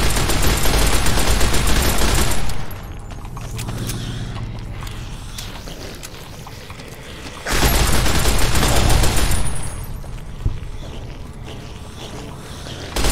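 Gunfire from the video game Fallout New Vegas comes in two dense, loud bursts of rapid shots, separated by a quieter stretch of mechanical background noise.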